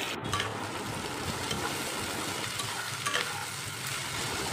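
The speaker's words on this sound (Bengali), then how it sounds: "কড়াইয়ে তেল দিয়ে পেঁয়াজগুলো বেশ লাল লাল করে ভেজে নেব।" Onions frying in oil in a wok as they are stirred, a steady close sizzle with scraping stir noises running throughout, no voices.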